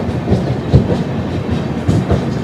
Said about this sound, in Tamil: இப்போ வந்து பார்த்தீங்கன்னா வடோதராக்குள்ள என்ட்ரி ஆகுதுங்க ட்ரெயின்